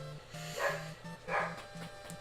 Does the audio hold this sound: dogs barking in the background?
yes